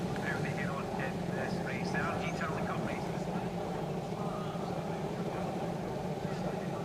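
Racing motorcycles on the starting grid at Brands Hatch GP circuit before a British Talent Cup race, a steady, continuous engine drone with rising revs throughout, fairly distant and blended with broad track ambience.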